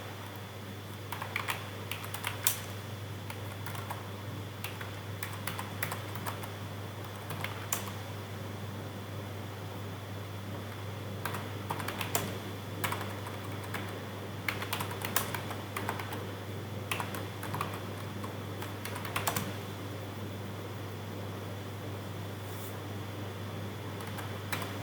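Someone types a Java program on a computer keyboard, producing faint, irregular clusters of key clicks over a steady low fan hum, with no talking.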